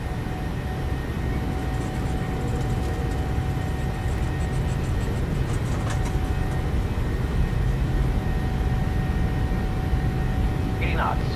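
A PMDG 737 in a flight simulator rolling for takeoff on a flight out of Norway, a steady broadband jet engine roar that builds slightly, with a voice talking over it.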